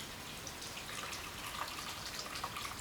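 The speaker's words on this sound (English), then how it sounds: "Now that we've cooled our cinnamon water off, we're going to be taking it and just straining it through a cloth." Cooled cinnamon water strained through a cloth, trickling and dripping in a faint, steady, hissy flow without pauses, with no talk.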